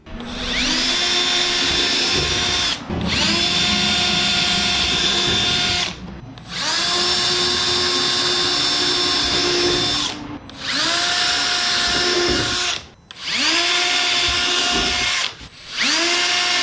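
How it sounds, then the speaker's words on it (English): A power drill bores holes into the bottom of Pelican plastic cargo boxes: several loud, sustained whining bursts, each ending in a short pause as the motor stops and restarts, with no talk. "I drilled 6 holes into the bottom of my boxes"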